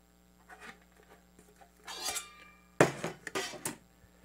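Titanium tea kettle nesting inside a titanium frying pan, several close metallic clinks and scrapes, quiet handling at first and then a sharp bright clatter followed by a few more ringing knocks.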